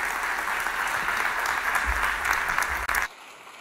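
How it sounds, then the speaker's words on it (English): Audience applause after a data science talk, a steady dense clapping that fills about three seconds before cutting off abruptly into near silence. "can I just ask for another round of applause for what was a great talk?"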